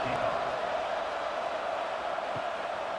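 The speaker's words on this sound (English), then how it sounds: "this crowd now ready to get behind them" Steady stadium crowd noise swells through a college football video game (CFB 26) kickoff between Utah and Texas Tech, a dense continuous roar with no distinct words, loud and unbroken across the stretch.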